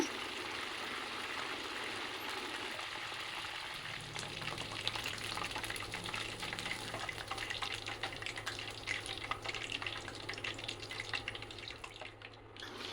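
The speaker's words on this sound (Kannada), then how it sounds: "ಇದನ್ನು ಫಸ್ಟಿಗೆ ಹೈ ಫ್ಲೇಮಲ್ಲಿ ಸ್ವಲ್ಪ ಫ್ರೈ ಮಾಡ್ಕೊಬೇಕು." Mushrooms sizzle in a pan over a high flame, a quiet, steady, crackling hiss that runs the whole time with no voices.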